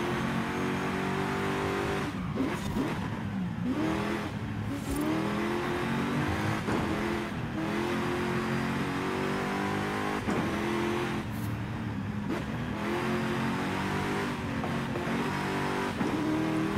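A car engine in Forza Horizon 5 drones and revs continuously while driving, its pitch climbing and dropping through several gear changes, loud and close with no talk over it.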